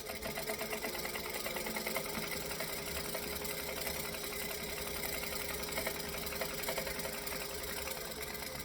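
A sewing machine runs continuously and evenly while stitching straps, a faint, steady mechanical whir with a rapid needle rhythm and no talk.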